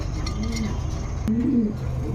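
Pigeons coo close by in a market setting, Danish, King, Beauty and Damascene breeds among them, a couple of soft rolling low calls over a faint background hum.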